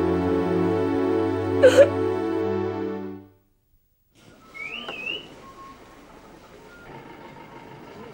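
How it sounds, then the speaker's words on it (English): A loud, sustained whistle with a rich harmonic tone lasts about three seconds, then a faint, brief whistled call rises farther off amid quiet background noise. "I can recognize his whistling call any day."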